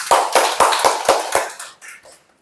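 A congregation at a workplace Christian fellowship sermon claps together in unison, with about seven sharp, evenly spaced claps followed by a few scattered trailing ones as the sound dies away.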